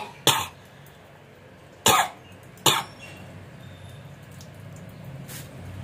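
Three short, sharp coughs from a young child, two spaced apart then one quickly after, with quiet room noise between them.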